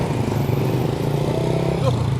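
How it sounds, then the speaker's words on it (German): Motor scooters pass close by on a street in Vientiane, Laos, a steady loud engine drone with a rising whine near the end. "auch wenn hier die Roller durchfahren"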